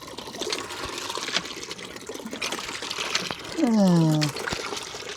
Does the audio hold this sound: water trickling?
yes